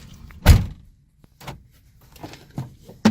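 A Honda car door gives a few separate thunks and clicks, the first one loudest and close, then lighter knocks spaced irregularly through a quiet background.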